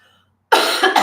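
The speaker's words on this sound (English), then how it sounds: "I'm going to cough again." A single loud, close cough bursts out after a brief silence, followed by a couple of smaller hacking pulses.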